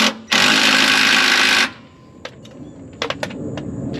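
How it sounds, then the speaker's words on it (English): An impact gun drives a bolt home on a GTO with one loud, continuous rattling burst of just over a second, followed by a few sharp metallic clicks in a quiet workshop. "Run that home with the impact gun and we'll be done."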